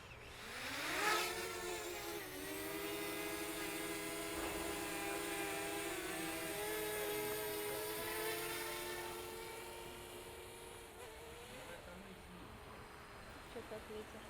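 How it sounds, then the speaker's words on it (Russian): Camera drone taking off and flying in Montenegro, a loud, close, high-pitched whine of its propellers that rises steadily in pitch as it climbs, then holds a steady buzz that slowly fades. "Хочу сейчас дрон запустить."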